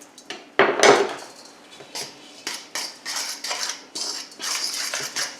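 Egg, flour and a pinch of salt for pasta dough are mixed with a utensil in a bowl, producing a run of sharp scraping and clinking strokes in an uneven rhythm, close and fairly loud, with no talking.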